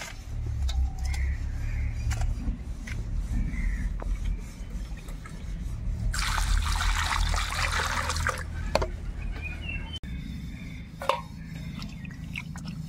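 Tap water runs steadily while fresh magur catfish are washed in a kitchen, a continuous close trickle and splash with a louder gush in the middle.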